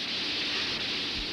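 Rain falling as a steady, even hiss throughout, moderately loud and continuous, with a faint low rumble near the end.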